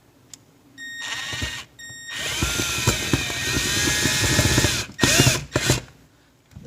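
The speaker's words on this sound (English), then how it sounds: "So to get the screws in is pretty tricky, weird angle. I'm using this flex" A power drill with a flexible extension bit drives screws at an awkward angle inside a Samsung dishwasher during a wash motor install, whirring in several bursts with short pauses between, loud and close, no speech.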